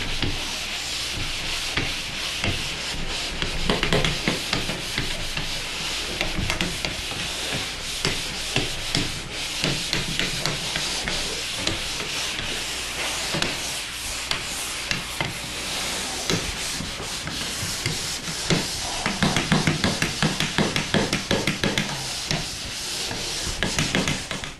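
Drywall being pole sanded, a sanding head on a pole pushed across the wall in repeated long strokes that make a steady scratchy rubbing which swells and fades with each pass, close and without talk.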